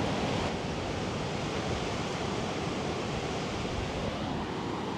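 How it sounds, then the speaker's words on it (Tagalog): Big ocean waves crashing on the shore in Batanes, a continuous loud roar of surf mixed with strong wind buffeting the microphone, no voices. "pakinggan nyo lang muna yung hampas nitong mga malalaking alon na to"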